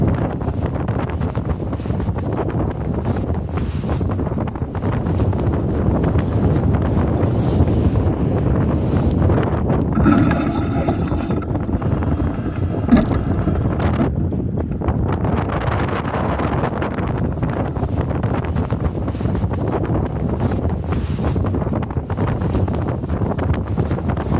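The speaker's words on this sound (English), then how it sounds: "Pretty nice breeze is kicking up here." A steady, loud rush of wind buffets the microphone aboard a small sailboat sailing solo through the Gulf Islands near Sansum Narrows in a building breeze. The roar stays constant throughout, with faint water and boat noise beneath it.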